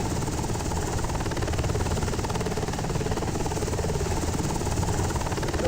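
Steady, continuous helicopter rotor and engine drone from a flight in Microsoft Flight Simulator, an even buzzing hum with no breaks.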